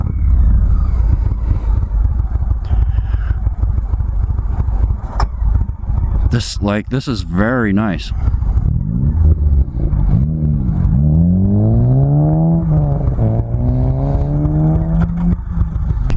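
An Indian Chief Darkhorse motorcycle engine on a ride, a steady loud rumble that revs up and climbs through gears, with someone speaking over the wind and engine noise.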